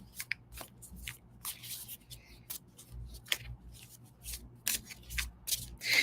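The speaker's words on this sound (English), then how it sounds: "I'm still going to shuffle my cards and build that energy up" Tarot cards being shuffled by hand, a quick run of crisp riffling and slapping bursts in uneven clusters, close and alone without talk.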